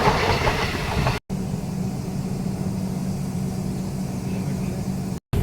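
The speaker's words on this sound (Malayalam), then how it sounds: "ബീഹാറിൽ നിന്ന് തിരുപ്പതിക്ക് പോകുന്ന എക്സ്പ്രസ് ആണ്." An express train running from Bihar to Tirupati, hauled by a WAG-9 electric locomotive, gives a steady, close rolling rumble with faint clickety-clack of wheels over rail joints throughout, with no voices.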